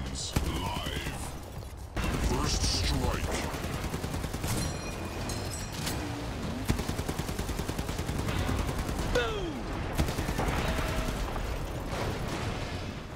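Gunfire from vehicle weapons in the combat racing game Hardware Rivals, rapid repeated shots and mechanical clanks over engine roar and music, dense and loud throughout.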